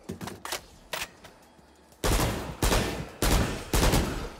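Bulldog rifle firing in the video game Valorant: a few quieter shots first, then four loud, close bursts of rapid fire separated by short pauses.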